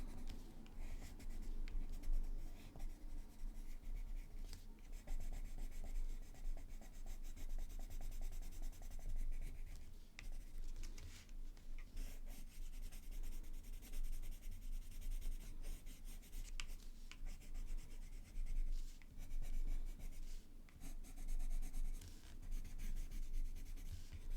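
Faber-Castell watercolor pencils drawing on paper for a flower study, giving a steady, close scratching rub of pencil lead with small bursts of rhythmic strokes, continuous and fairly quiet, with no talking.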